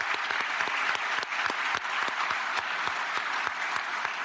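Audience applauding awardees at a graduate and professional school awards ceremony: dense, sustained clapping from a large crowd, with sharper individual claps standing out, steady and loud for the whole stretch.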